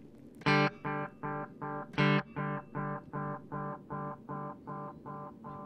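A guitar note repeats through a Sitori Sonics Tapeworm delay pedal with feedback raised, each echo sounding in an even rhythm, and a second struck note starts another chain of fading repeats.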